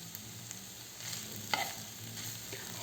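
A cooking mixture being stirred in a pan over heat, with a spoon scraping through it amid a steady low sizzle, close and continuous, and no voices.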